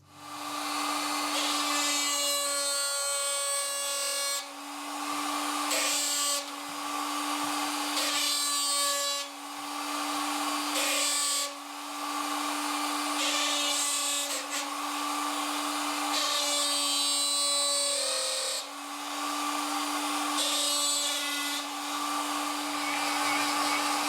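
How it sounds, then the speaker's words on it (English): A power carving tool does fine carving on bald cypress wood, giving a loud, close, high-pitched whine that runs in repeated long bursts separated by brief pauses. "Okay, now the fine carving."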